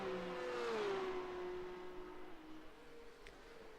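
A Porsche Cup race car engine holds a high, sustained whine that drops in pitch as the car comes off a fast right-hander into a hard braking zone, moderately near and unbroken by talk.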